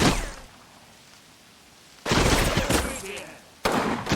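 Gunfire from the wargame Combat Mission Red Thunder, a night firefight against troops in foxholes, comes in two loud, dense bursts of rattling shots after a quieter stretch with faint background noise.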